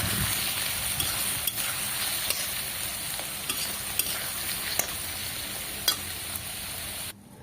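Potatoes tinged with a pinch of turmeric fry in hot oil with a steady, close sizzle. Scattered stirring clicks and scrapes run throughout, and the sizzle stops abruptly just before the end.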